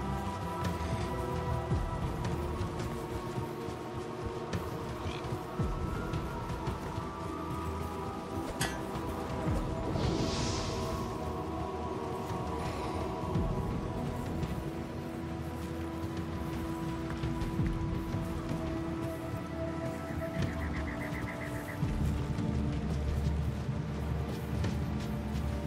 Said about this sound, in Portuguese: Acho que tá chovendo.